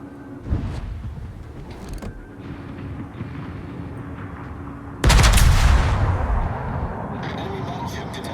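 Naval guns fire in the World of Warships game, with a few scattered booming shots followed by a heavy, loud salvo partway through that rumbles and fades over a constant low background.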